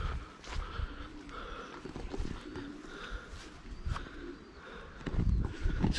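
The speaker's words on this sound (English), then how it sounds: "Just loads of pigeons." A flock of pigeons in Burntisland, cooing and fluttering at close range with scattered wing claps and shuffling, a busy irregular texture that grows louder toward the end.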